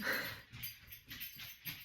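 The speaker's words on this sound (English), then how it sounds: "Dog Mario is doing another perimeter check" A dog patrolling and sniffing around, giving soft repeated snuffling breaths in a quick rhythm with faint whimpering, close and quiet.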